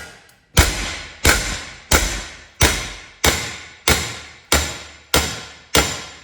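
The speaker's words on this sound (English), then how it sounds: "this is called hammer forming." Nine heavy metallic hammer blows strike a sheet metal repair panel for a Mazda MX5 Mk1 at a steady rhythm, hammer forming, each a sharp ringing impact that quickly decays, close and loud.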